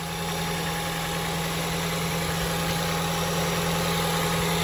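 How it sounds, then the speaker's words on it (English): A truck engine idles steadily and quietly at close range, a smooth continuous rumble with a strong low hum and no revving or talk throughout. "No unusual funny noises coming out of the engine."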